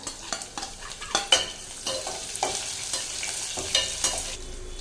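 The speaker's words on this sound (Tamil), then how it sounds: "ஒரு பெரிய வெங்காயம் நீல வாக்கில் கட் பண்ணி வச்சுருக்கேங்க சேர்த்திக்கலாம்" Sliced onion sautéing with ginger, garlic and red chili in a pan, with frequent spatula clacks and scrapes over a steady close sizzle.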